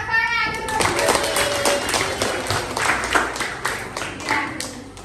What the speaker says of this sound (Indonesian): Benar, tepuk tangan untuk Zuki.